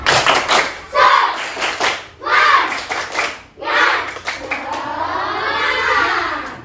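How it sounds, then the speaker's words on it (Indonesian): Schoolchildren in an Indonesian classroom perform a rhythmic spirit clap together. Bursts of group clapping and thumps alternate with chanted voices, loud and close, in a steady patterned rhythm. "Kita lakukan dulu tepuk semangat ya."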